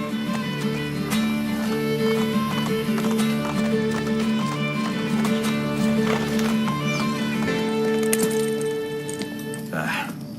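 Horse hooves clip-clop steadily in the video game Assassin's Creed Brotherhood, a rhythmic clatter under a sustained musical score, with a whinny-like burst near the end.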